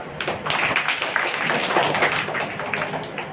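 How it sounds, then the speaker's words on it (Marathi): Schoolchildren at a school celebration for Dr. Babasaheb Ambedkar's birth anniversary in Kolipada, Kasara clap together in a steady, dense burst of applause lasting a few seconds, close and fairly loud. "टाळ्या वाजवा"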